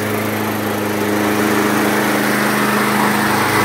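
A Toro PT-21 self-propelled lawn mower engine runs steadily after a carburetor cleaning, a loud, close, even buzzing drone that holds throughout with no speech.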